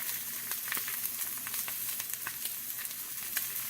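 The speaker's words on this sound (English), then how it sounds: "just going to cook them for about 7 minutes on each side on about a medium-high heat" Pork chops fry in a cast iron pan over medium-high heat, giving a steady close sizzle peppered with small sharp pops and crackles, no voices present.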